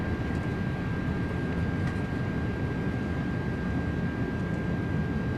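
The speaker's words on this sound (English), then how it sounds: "Reversers are out. Decelerating." Thrust reversers on an Airbus Beluga XL in a flight simulator roar with a steady broadband rush as the jet decelerates after landing, constant and unbroken, with a thin high tone above it.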